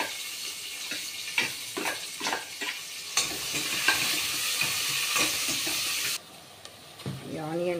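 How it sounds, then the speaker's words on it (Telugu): Chopped onion sizzling in hot oil in a pan while it is stirred, soft scraping and crackling frying noises for a few seconds, with a faint voice now and then while cooking a brinjal sambar. "ఇప్పుడైతే ఆనియన్ వేస్తున్నాను"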